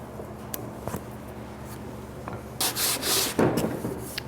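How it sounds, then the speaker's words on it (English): Hand sanding of a glued wooden plug on a wooden compost bin, with scattered light scrapes building into several loud, rhythmic rubbing strokes near the end. "And sand the extra smooth."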